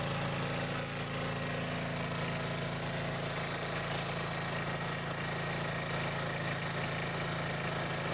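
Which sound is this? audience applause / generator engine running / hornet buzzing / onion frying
generator engine running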